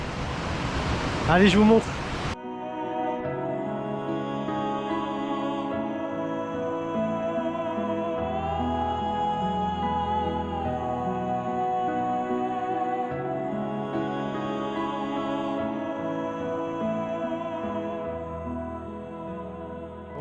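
Waterfall in the Jura heard from the top, a steady broad rushing roar that fills the whole stretch, with someone speaking briefly over it at the start.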